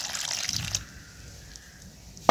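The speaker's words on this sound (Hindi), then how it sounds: "थोड़ा सा पानी ऐड किया" Water pours into a dough mixture of flour and egg yolks in a home kitchen, a short soft splashing gush up close that fades into quiet, ending with a brief knock.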